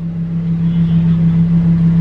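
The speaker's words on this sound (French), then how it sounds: "après je couperai le moteur" Lamborghini Huracan EVO engine idling steadily with a low, even drone and a strong constant hum, close and loud throughout, with no voices over it.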